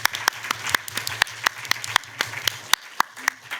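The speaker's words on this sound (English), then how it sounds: "Round of applause for Robert White, everybody" Applause from an audience at a comedy event, a steady burst of many hands clapping with a few louder sharp claps standing out, continuing throughout.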